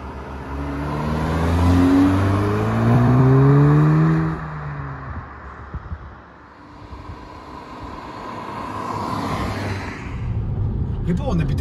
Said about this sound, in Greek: Λοιπόν, επιτέλους οδηγώ το S3